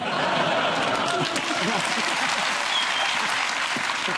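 A studio audience on a British news panel-show bursts into dense, steady applause that holds at full strength throughout, with a little scattered laughter mixed in.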